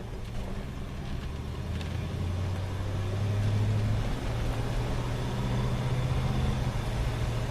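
Lincoln Continental with a TH250 transmission cruising down the road, a steady low engine and road drone from inside the cabin that swells slightly midway, with no talk over it.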